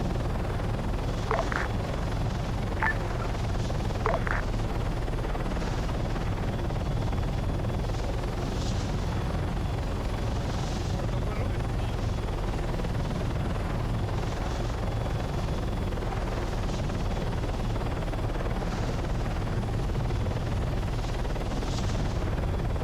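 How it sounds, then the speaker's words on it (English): A steady helicopter drone in a tactical shooter video game fills the whole stretch, a constant broadband rotor rumble with a few faint high chirps and clicks scattered over it. "Alpha reporting eyes on chopper northwest over road."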